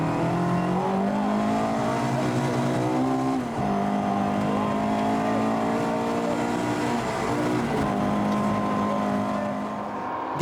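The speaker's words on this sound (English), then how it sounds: "Like the Escorts, these cars are real entertainers on dirt, just with that throatier V8 roar." A Triumph TR8 V8 rally car on a dirt road at a classic rally in Otago, its engine roaring loud and throaty, with steady revs that dip and climb as it shifts gears, no talk.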